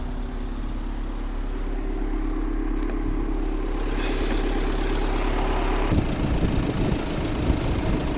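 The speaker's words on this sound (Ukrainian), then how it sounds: "Ось робота двигуна." A 2014 VW Tiguan 2.0 TDI diesel engine idles close by, a low continuous rumble with a slight rattling clatter that grows rougher near the end.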